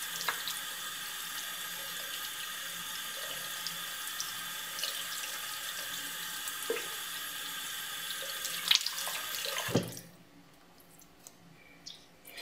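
A paintbrush rinsed under a running tap into a sink, with a steady close rush of water for about ten seconds before the flow is shut off, leaving a few faint drips and clicks.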